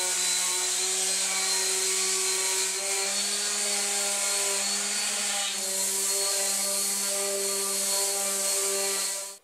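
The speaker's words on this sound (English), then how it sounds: "we're going to sand all of our pieces down with some" Power sander working pallet wood pieces with 120 grit sandpaper, a steady close whine with a constant motor hum that runs without a break for the whole stretch and no talk.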